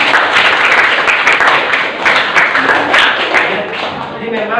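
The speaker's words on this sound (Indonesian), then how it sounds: "Tepuk tangan buat kita semua." A class of students claps together in a room, a dense, continuous patter of hands with a few voices mixed into it, loud and close.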